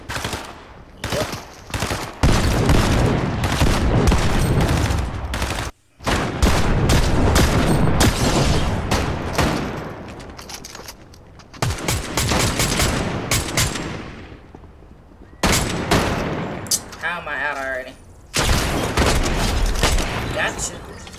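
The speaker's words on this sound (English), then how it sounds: "Are you shooting at me even?" Video game gunfire from Fortnite or Dead by Daylight rattles in loud, rapid bursts broken by short pauses, close and dense, with a player's voice heard in between.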